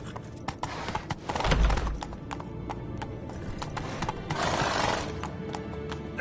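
Horse hooves clip-clopping as the animal sets off, with a neigh partway through; steady close hoofbeats on a hard surface, a rider's brief voice heard faintly.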